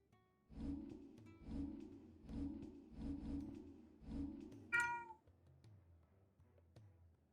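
A pet cat meows about six times in a steady, rhythmic series of drawn-out calls, fairly close and clear, with a brief higher squeak near the end followed by quiet.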